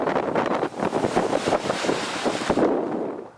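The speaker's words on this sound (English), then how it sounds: "It was either stand back and marvel as the violence of the wind took control" Strong storm gusts whip and tear at loose polytunnel plastic, a loud roaring buffet with flapping surges close to the microphone.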